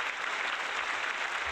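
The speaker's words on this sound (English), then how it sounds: "I got to give her an applause for that" A brief, steady wash of clapping, dense and even, as if a group applauds a female truck driver during a podcast, with no distinct voices over it.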